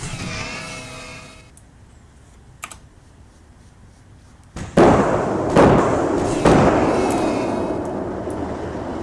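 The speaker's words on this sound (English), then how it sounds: "Let's fire some rockets while we still can." Rocket artillery fires in the military video game Arma 3, heard as several loud, booming launches in a row after a quieter stretch with a few clicks and a tonal hum at the start.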